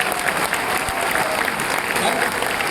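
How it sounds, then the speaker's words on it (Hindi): A motivational seminar crowd breaks into a short burst of thick, continuous applause, busy and steady with no one speaking over it. "तो एक बार 850 करोड़पतियों के लिए एक बार जोरदार तालियां होनी चाहिए"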